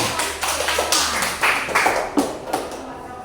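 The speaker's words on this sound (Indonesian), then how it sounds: "Oke, tepuk tangan semua" A class in Indonesia applauds a group presentation with a short, scattered burst of hand claps from several people nearby, thinning out toward the end.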